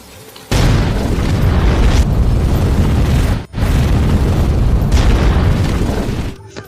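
A loud, sustained bomb explosion roar in an Indian action film, briefly cut off midway and then continuing in a second heavy, rumbling blast before fading out.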